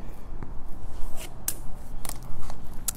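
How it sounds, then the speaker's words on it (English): A few crisp, short cuts through a fabric strip for a quilt, spaced snips over a steady low background hum. "I'm just going to cut it a little wide."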